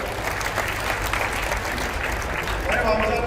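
A large crowd at a Chief Minister's political rally in Pandharpur applauds, a broad wash of clapping with crowd noise and a speaker's voice over it.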